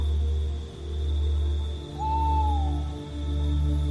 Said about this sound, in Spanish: Escuchas los grillos, algún que otro búho.